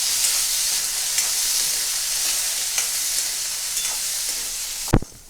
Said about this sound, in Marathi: तर वाटाणा पण आपण तेलामध्ये छान असं भाजून घेणार आहे